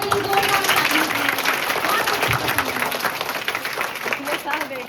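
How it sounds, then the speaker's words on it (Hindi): Loud, dense clapping from a group of schoolchildren at a school health session, filling the whole stretch steadily with children's voices mixed in beneath it. "चलो सब लोग श्रद्धा के लिए जोरदार ताली बजाएं।"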